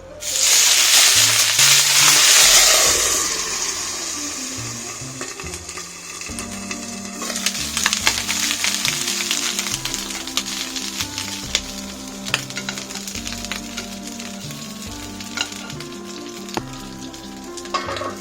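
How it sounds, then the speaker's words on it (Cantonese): Abalone rolls pan-frying on each side give a loud, steady sizzle that is strongest at the start, then settles into a softer crackle with scattered clicks and light scraping. "最好每一面都煎一煎， 煎晒每一面之後"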